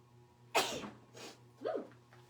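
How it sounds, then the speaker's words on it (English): A single sharp sneeze bursts out close and loud, followed by a fainter breathy sound and then a second, smaller sneeze, set against a low steady hum indoors. "excuse me, I'm about to sneeze"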